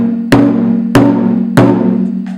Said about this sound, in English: And dunun ba sounds like this.